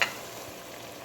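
Water poured into mutton karahi sizzling in a pan, a sharp hiss bursting loud at the start and then settling into a steady close crackle and fizz.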